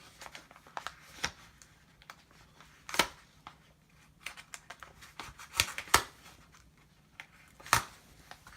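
Scissors or a blade cut open a comic book package in a series of quiet, sporadic snips and clicks with light crinkling between them, close up in a calm room.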